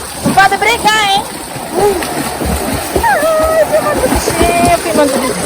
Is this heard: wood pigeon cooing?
no